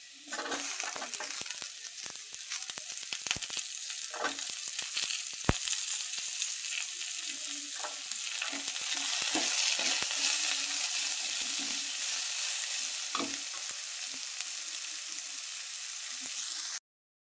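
Onions and capsicum sizzle and fry in a pan at home, a steady crackling hiss with scattered clinks and scrapes of a stirring spoon, the frying swelling slightly louder midway.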